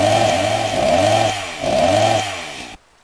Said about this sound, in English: Makes a chainsaw noise.